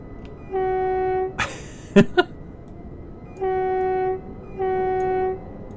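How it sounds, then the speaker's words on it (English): A Class 456 electric train on the South London route in Train Simulator 2015 sounds its whistle in three sustained two-tone blasts, with sharp clicks and knocks between the first and second blasts. "That's the whistle apparently."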